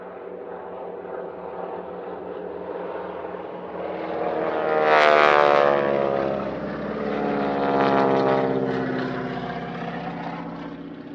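Propeller aircraft of a wingwalking aerobatic team fly opposition passes at the East Kirkby Airshow in 2022, their engine drone swelling twice to loud peaks as the planes pass, then fading again.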